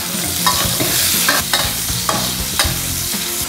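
Pork belly frying hard in a hot wok for a Korat-style stir-fried noodle dish, a loud steady sizzle broken by regular scraping strokes of a spatula stirring the meat.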